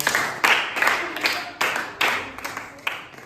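A group of students in a classroom word game claps together for a classmate, Bhagyashri, in a steady, even rhythm of about two to three beats per second, close and fairly loud, with no talking over it.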